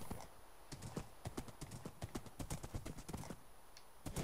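Rapid, steady clip-clop of horse hooves in the video game Minecraft, a close, regular trotting rhythm running throughout with no talk over it.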